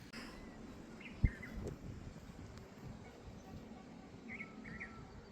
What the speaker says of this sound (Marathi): पक्ष्यांचा आवाज येत असेल तुम्हाला.